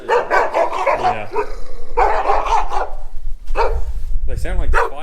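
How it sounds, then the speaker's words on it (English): Several dogs bark and yip at each other in quick overlapping bursts close by, with a brief whimper, mixed in with people talking. "They sound like they're fighting, but they're just barking at each other."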